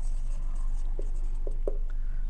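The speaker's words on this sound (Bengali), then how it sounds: "প্রথমে আমরা লিখব যে" Pen or pencil writing out a math solution by hand on paper, a few short scratchy strokes over a steady low hum, close and fairly soft.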